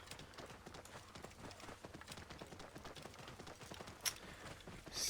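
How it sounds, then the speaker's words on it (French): Rhythmic, steady hoofbeats of a camel walking at an even pace in the video game Assassin's Creed Origins, soft and slightly mechanical, with a brief sharp click near the end. "On appelle le cheval, non, le chameau."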